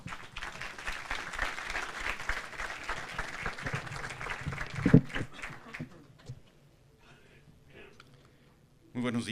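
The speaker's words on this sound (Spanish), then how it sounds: "a quien recibimos nuevamente con un cálido aplauso." Warm applause from a forum audience in Mexico welcoming a speaker, a dense patter of clapping for about six seconds that thins out, followed by quiet room noise and faint voices.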